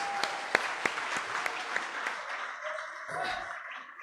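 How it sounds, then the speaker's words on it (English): An audience at a political party debate claps in a thin, spread-out patter with a few sharp individual claps standing out early, then thinning and fading away over a few seconds. "give yourselves a round of applause for being a great audience"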